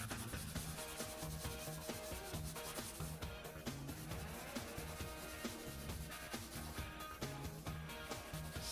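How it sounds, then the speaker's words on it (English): Steel wool scrubs rust off an old golf club iron with quick, continuous back-and-forth scratchy rubbing strokes, faint and close. "steel wool here. Give it more of a scrub."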